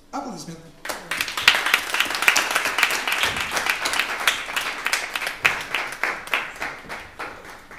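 Applause at a press conference held by a band: after a brief voice, distinct individual claps start up and continue as a moderately sparse, uneven patter from a small room audience.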